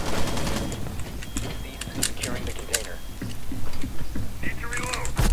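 Rapid assault rifle bursts from a first-person shooter game, with a high fire rate, crackle close and sharp in repeated volleys while someone talks over them.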